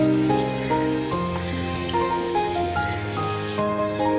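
Potatoes fry in hot oil for a village-style desi chicken curry, giving a steady, close crackling sizzle throughout with a sustained tonal background.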